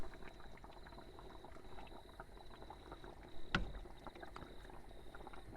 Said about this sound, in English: So the chicken's had about 10 minutes of bubbling away.